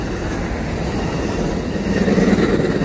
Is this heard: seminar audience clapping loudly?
no